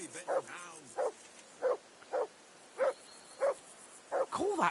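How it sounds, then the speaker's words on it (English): A dog in the medieval video game Kingdom Come: Deliverance II barks about seven times in a steady, evenly spaced rhythm. The barks are loud and close, with a quieter whine near the end. "I assume you can hear that damn dog of yours barking."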